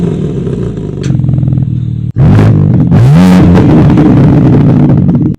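A BMW M3 Touring's 510-horsepower straight-six with a K&N air filter and 8-speed automatic revs hard and close, a loud sustained roar rising and falling after a brief lower idle, with no talking over it.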